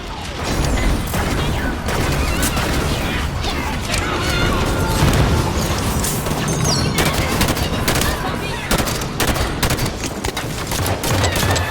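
Heavy battle gunfire in Halo 5: Guardians against Covenant forces, loud continuous automatic fire with crashes and explosions packed together across the whole stretch, busy and close.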